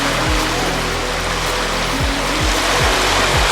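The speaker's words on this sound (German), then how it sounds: "Ja, also die Wellen sind schon." Ocean waves at the North Cape in northern Norway, a loud continuous wash of surf and rushing water with a low rumble, steady throughout and without speech.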